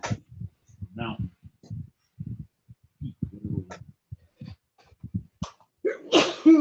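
Someone talks quietly while painting in watercolor, then sneezes once, loudly and close, near the end.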